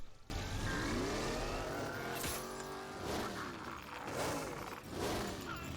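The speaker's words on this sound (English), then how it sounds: "Rev them engines, homie." Engines rev loudly from an animated show, a sustained roaring drone with rising and falling pitch sweeps and bursts of acceleration running throughout, close and dominant.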